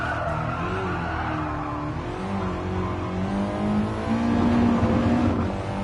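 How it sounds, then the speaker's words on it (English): A race car engine in a racing video game drones and shifts pitch, with brief sputtering as the throttle eases, loud and close with no talking. "I can hear the little, like, sputter sounds when you let off the gas"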